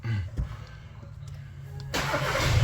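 A VW Passat B8 or Golf VII petrol engine is switched off and started again during cooling system work, with a quiet low rumble followed by the starter catching and the engine settling into a steady, louder idle up close.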